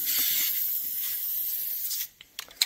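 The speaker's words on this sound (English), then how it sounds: "we're just gonna take the chain lube and just spray everything up." Chain lube sprayed onto the chains of a combine after harvest: a steady close aerosol hiss for about two seconds, then it stops, followed by a few faint clicks and rustles.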